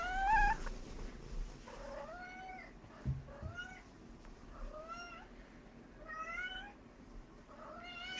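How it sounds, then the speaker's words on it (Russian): A cat meows repeatedly indoors, giving about six to seven drawn-out, rising-and-falling cries at fairly close range, with a soft thump partway through and no talking. "О, кошка пришла позаписывать со мной."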